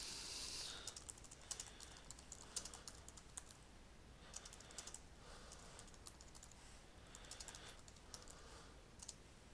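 Steady, fast typing on a computer keyboard, close and quiet, with keys clicking in quick irregular bursts and no voices.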